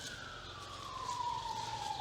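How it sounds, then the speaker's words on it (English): An emergency siren wails in a slow falling tone from traffic on a busy road beside a churchyard and cemetery in Launceston, Cornwall, distant and steady over low traffic rumble. "Probably hear the siren in the background on the busy road."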